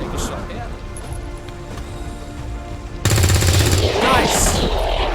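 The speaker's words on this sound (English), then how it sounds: "Take a shot here." Gunfire from the XCOM 2 video game: a loud burst of rapid shots breaks out partway through, after a quieter stretch of game ambience, and a voice is heard.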